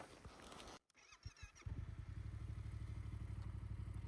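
A Yamaha MT-07 motorcycle lifts into a wheelie in second gear, its engine note jumping from a rough idle into a loud, steady, pulsing roar that holds close and strong to the end after a brief clatter of shifting.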